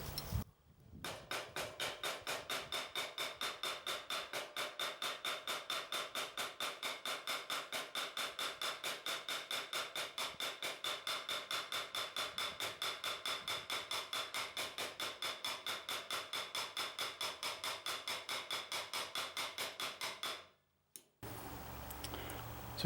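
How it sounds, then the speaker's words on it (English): A hammer strikes a nail repeatedly to peen it over in an Eclipse hatchet head, dozens of rapid, evenly spaced sharp metallic taps at close range that continue steadily for about twenty seconds before stopping. "I'm going to try my best to strike the center of this nail as much as possible."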